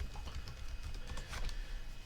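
Quiet typing on a computer keyboard, a quick irregular run of light key clicks close to the microphone over a low background hum.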